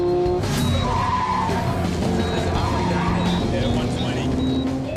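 A 400-horsepower twin-turbo muscle car nicknamed Godzilla skids hard, its tyres squealing loudly and continuously up close, with engine roar and voices mixed in.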